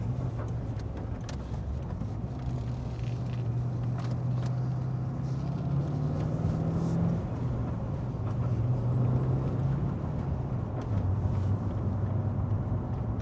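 A car with a Chopper Reid camshaft and CNC heads cruises in fourth gear, its engine a continuous low drone that rises and dips slightly in pitch, with no talk.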